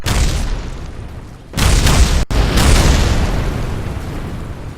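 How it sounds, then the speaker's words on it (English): Loud, broadband roaring blasts from a rocket crashing and exploding in Kerbal Space Program, sustained and rumbling, with a brief dip and an abrupt cut before the explosion noise resumes. "It's going to be one big splat, quite probably."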